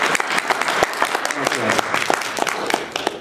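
A convention Q&A audience at MAGFest breaks into brief applause, a burst of close, crisp claps from a small crowd with some voices mixed in.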